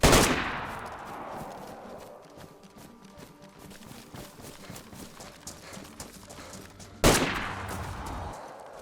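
Sniper rifle shot in the video game DayZ: a sharp, loud crack that rolls into a long decaying echo, followed several seconds later by a second booming shot.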